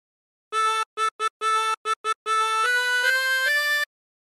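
A chromatic harmonica plays the opening phrase of the sea shanty What Shall We Do With the Drunken Sailor, a run of short clean reed notes in a clipped rhythm, then several held notes stepping upward, heard alone against silence.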